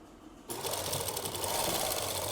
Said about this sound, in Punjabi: ਹੁਣ ਆਪਾਂ ਇਹ ਕੱਪੜਾ ਐ ਕਰਕੇ ਇੱਥੇ ਲਗਾਉਣੀ ਹੈ ਸਲਾਈ